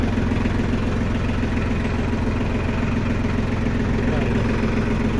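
Shibaura D275 tractor with front loader idling steadily after starting, a loud continuous diesel rumble throughout with a low throbbing pulse.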